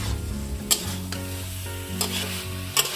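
Pre-fried soybeans are stirred into boiled potatoes in a pan, sizzling loudly and steadily while a spoon scrapes through in three sharp strokes.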